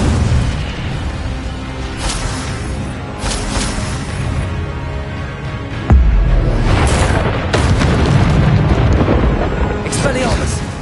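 Fire spells cast in Hogwarts Legacy erupt in loud, rumbling bursts of flame and explosive booms, one striking hit landing sharply midway through a dense, continuous stretch of magical combat noise.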